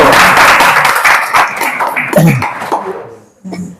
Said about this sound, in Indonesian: Luar biasa, kita berikan tepuk tangan.